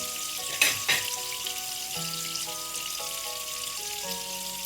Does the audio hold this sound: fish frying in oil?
yes